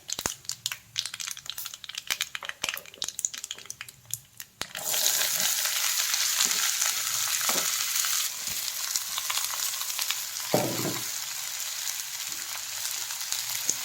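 Sliced mushroom and onion dropped into hot oil for a Kerala theeyal, a loud steady sizzle bursting in partway through and continuing with occasional stirring scrapes.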